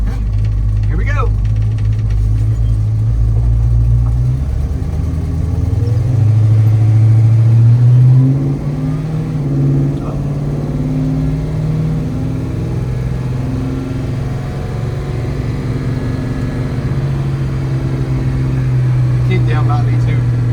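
A ratty 1969 Dodge Charger's engine rumbles and revs as the car pulls away, loud and close with rising and falling engine tones, and people talk over it.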